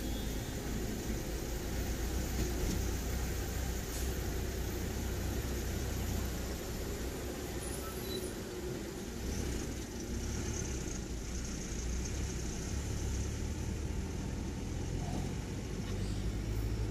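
Car engines idle in a traffic jam on an expressway, a steady low rumble and broadband wash of traffic noise that holds constant throughout, without distinct passes or talking.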